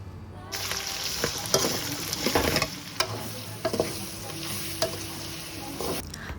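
Raw mango pieces sauté in a hot pan for mango thokku, with steady close sizzling and repeated scraping, clattering stirs throughout.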